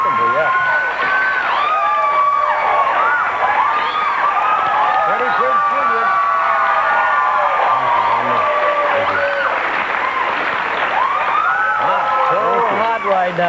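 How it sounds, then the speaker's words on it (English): A television studio audience for a talk show applauds and cheers loudly as a guest actor comes on stage. Sustained clapping runs through the whole stretch, with whoops and shouts layered on top. "I didn't hear applause that loud since Sarah was here yesterday."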